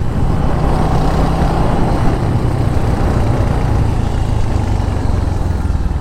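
A Royal Enfield Hunter motorcycle in red runs steadily, a loud, continuous close engine rumble with an even low throb that holds without break, no voices over it.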